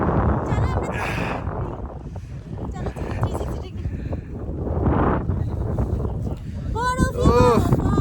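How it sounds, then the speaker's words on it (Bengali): Strong cold wind on a snowy mountain top near Manali buffets the microphone in rough, continuous gusts while people talk over it. "যা ঠান্ডা হাওয়া দিচ্ছে"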